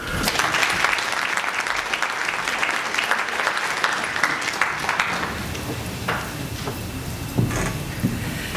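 Applause from an audience at a legislative day event welcoming a speaker, steady dense clapping for about five seconds before fading into scattered claps and room noise.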